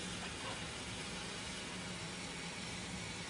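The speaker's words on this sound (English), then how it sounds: "It reacts immediately, fizzing and skating around on the water, which is evidence that a gas is being produced." Lithium metal fizzing and reacting in water, a steady broadband hiss that holds evenly throughout with no talk over it.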